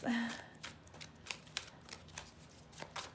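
Tarot cards are shuffled by hand in a quick, papery riffle, soft and close, with crisp flicks repeating irregularly over a light background hiss.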